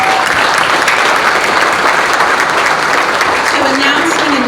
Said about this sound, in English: Let's give Coach a round of applause.